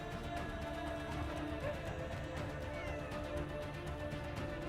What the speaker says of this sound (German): Katzen.